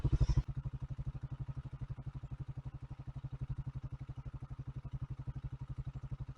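An air-cooled Skygo Boss 150 motorcycle engine idling, with a steady, rapid single-cylinder putter that holds an even rhythm throughout after a brief louder burst at the start, close by and with no talk.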